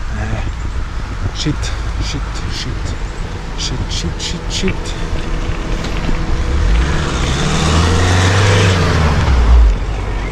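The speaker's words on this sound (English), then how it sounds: "Now I hear a car." A car passes on a mountain road during a bicycle climb to 2248 m, its broad engine and tyre noise swelling louder toward the end over a constant rush of wind, with people talking.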